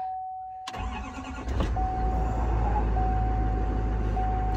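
A truck engine cranks and fires up, a sharp start followed by a steady, loud idle with a faint high whine running throughout.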